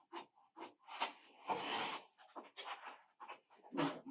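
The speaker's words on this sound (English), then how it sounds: "we'll just cut out this first page like this" Scissors snip through a book page in a series of close, papery cuts of uneven length, one longer rasping slice in the middle, while a book is upcycled into a treasure box.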